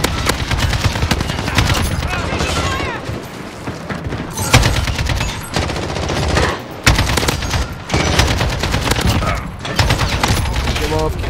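Rapid automatic gunfire in the Modern Warfare shooter game, dense loud bursts with brief pauses and explosive booms, a voice speaking over it.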